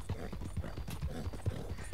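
Horse hooves clip-clop in Red Dead Redemption 2, a quiet, steady rhythm of soft thudding footfalls at a walking pace, with faint game ambience beneath.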